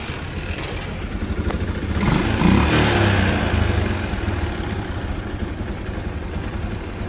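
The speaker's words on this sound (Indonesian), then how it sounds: "Terus motornya dihidupin." A Yamaha Jupiter MX motorcycle engine runs close by, rising briefly as it catches and revs, then settling into a steady clattering idle.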